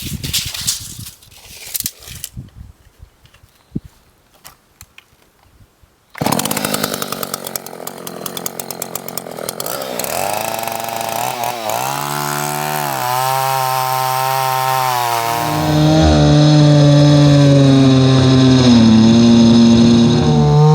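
A chainsaw cuts a log on a sawmilling job, idling and revving in short bursts before settling into a loud, sustained cut that rises in pitch and strain near the end.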